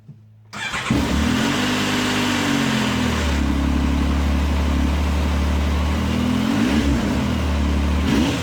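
A Yamaha YXZ 1000R side-by-side engine cranks and starts, then revs up twice in quick bursts, pitch rising and falling, settling to a loud idle between revs.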